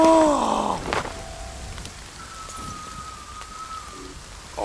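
Steady rain falling in the survival horror game The Forest, a soft continuous hiss, with a low groaning tone and a few brief eerie notes at the start.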